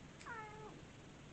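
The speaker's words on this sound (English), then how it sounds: "The cat is here." A cat gives a single short meow, faint and somewhat distant, falling in pitch over about half a second against a quiet indoor background.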